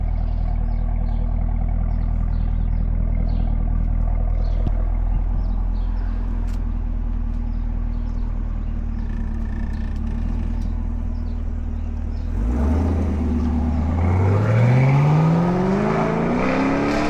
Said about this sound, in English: show you guys some sound clips of the supercharger thing that we did